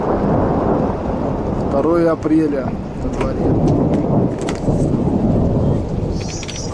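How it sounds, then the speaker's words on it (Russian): A spring thunderstorm in Tula Oblast, with heavy rain mixed with snow and thunder, rumbles and pours loudly and steadily throughout, and someone speaks briefly over the downpour. "Гром гремит, снег и гроза."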